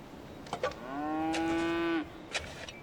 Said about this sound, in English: Cows mooing.